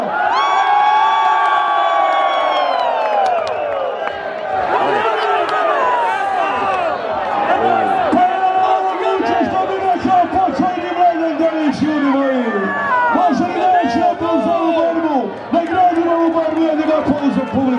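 A crowd roars, whoops and shouts throughout at a bull-fighting event, loud and sustained with excited voices rising and falling and a few individual shouts standing out.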